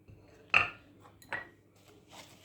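A spoon clinks against a bowl while stirring a sugar, starch, egg yolk and lemon zest mixture, with two distinct sharp clinks and a few faint scrapes in a quiet kitchen.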